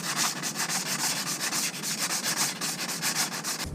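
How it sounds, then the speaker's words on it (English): Brake rotor from a Toyota Tacoma's front brakes being sanded by hand with 150-grit sandpaper, a loud rhythmic rasp of quick back-and-forth strokes repeating steadily and close up, with no speech. "I have 150 grit. So I'm going to lightly sand on this side, pull the rotor off, and sand on the other side."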